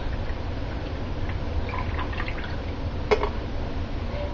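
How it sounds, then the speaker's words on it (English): Water is poured into the spout of a drip coffee maker, making a continuous soft trickle and gurgle nearby, with one brief louder splash near the end and no speech. "you take the water, so easy, and you pour it in the spout right here"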